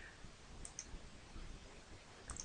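A computer mouse clicks quietly a few times, sharp little ticks at the start and again near the end against a faint background hiss.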